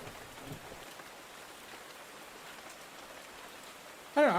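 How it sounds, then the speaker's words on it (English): Steady rainfall hiss continues throughout as a looped background rain recording, even and moderately loud, with a brief sharper burst of sound right at the end. "there are better loops for rain"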